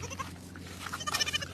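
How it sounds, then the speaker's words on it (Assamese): A young goat bleats in short, faint calls in an outdoor village setting, with soft background noise around them. "এইটো ছাগলী পোৱালি।"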